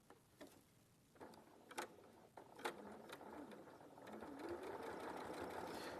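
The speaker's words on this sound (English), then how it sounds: "let's get back to sewing" Sewing machine stitching fabric close to the edge of a turned seam, a steady mechanical whirr that builds and grows louder toward the end, with a few sharp clicks early on.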